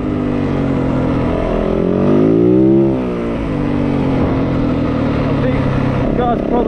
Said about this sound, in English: I'll build the revs up because you can hear the power band kick in.